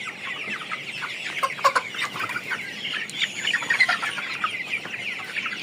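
Colored broiler chickens clucking steadily on a Bangladeshi poultry farm, a dense flock chorus of overlapping clucks and squawks close by, with no talking.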